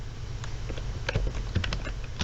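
Steady typing on a computer keyboard, with rapid irregular clicks and key taps at close range and no voices.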